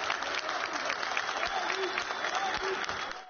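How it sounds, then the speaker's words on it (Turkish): Delayed passengers stranded for hours at an airport clap in protest, a dense, continuous patter of many hands in a reverberant terminal, with voices mixed faintly underneath. "En sonunda sabrı taşan yolcular alkışlı protestoya başladı."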